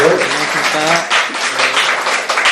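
At a book talk event, an audience claps warmly to welcome the author, steady close clapping with voices briefly audible underneath.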